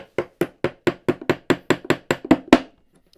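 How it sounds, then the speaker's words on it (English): A dozen sharp, evenly spaced hammer blows ring out on metal, steady at first and then slightly quicker and harder toward the end, with no talking. "this is a lump hammer I picked up off a Lost Art Press, which I really like"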